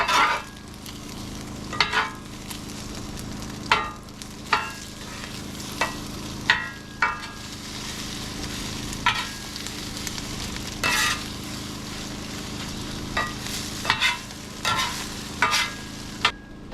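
Eggs sizzling in a pan with oil while vegetables and leftover pork are folded in, a constant close frying hiss broken by repeated scraping spatula strokes roughly every second or two.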